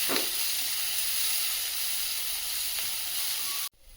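Onions frying in oil in a kadai until reddish brown, producing a steady close sizzle that holds evenly for several seconds and then cuts off abruptly near the end.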